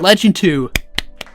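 A few sharp hand claps follow a short stretch of talk, about three separate, spaced claps, close and fairly loud, in a Dota gameplay guessing session.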